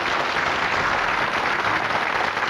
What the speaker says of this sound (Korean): 끝까지 최선을 다한 권상순 씨를 위해서도 여러분 다시 한번 뜨거운 격려와 축하의 박수를 보내주시기 바랍니다